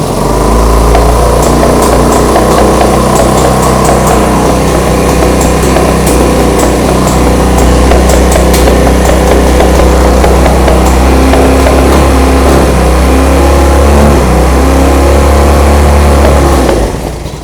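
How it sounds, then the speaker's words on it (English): A Honda CB200T motorcycle engine, recently revived, idles loudly and steadily up close with a throbbing low rumble and mechanical clatter, running for the whole stretch before cutting off at the very end. "All of a sudden it started idling perfectly."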